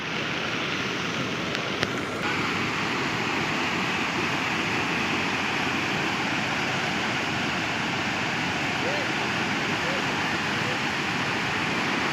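Heavy monsoon floodwater rushing over a bridge in Konkan, a loud, steady broadband roar of flowing water filling the whole stretch without pause.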